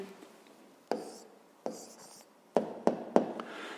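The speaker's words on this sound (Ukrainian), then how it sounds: "записуємо тоді відповідь" Pen strokes on paper while a math answer is written down, soft scratching broken by several sharp taps and short bursts, close and quiet with no talk.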